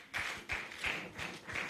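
An audience at an association's annual general meeting claps in a few scattered, steady beats, faint and thin as if from a small crowd some distance away.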